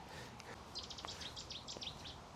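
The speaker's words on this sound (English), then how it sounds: "Nice Chetty's warbler there." A Cetti's warbler sings a short burst of bright, rapid notes, faint and somewhat distant over a steady outdoor background hiss.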